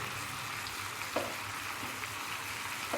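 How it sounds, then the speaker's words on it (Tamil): Bread slices go into a hot pan of bread upma seasoning with a steady sizzle and fry throughout, plus a few light scraping and stirring clicks. The sound is close and even, and nobody speaks. "இப்போ ப்ரெட் ஸ்லைஸை போட்டுக்கலாம்."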